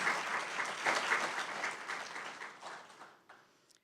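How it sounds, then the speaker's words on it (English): Audience applause at a Burke County candidates' forum, a dense, sustained burst of clapping that holds steady and then thins and fades away near the end, with no talking over it. "So let's give Western Piedmont a round of applause for their hospitality."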